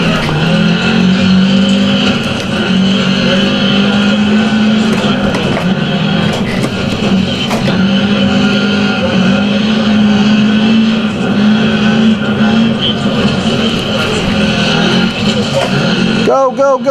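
A rally car in the Dirt Rally video game drives hard through snow, its engine droning loud and steady with a shifting pitch, skids and tire noise mixed in. Excited talk runs over it throughout.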